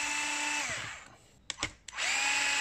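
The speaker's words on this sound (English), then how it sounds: "That's the beauty of having a power tool. You can quickly just take screws in and out." A power drill drives screws into the aftermarket fenders and infills on an Arrma Infraction RC car: a close, steady motor whine winds down, a few short clicking bursts follow, then the whine spins back up.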